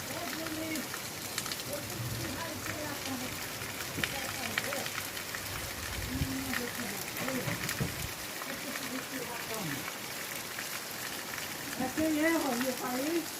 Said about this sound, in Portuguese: agora outra chuva grossa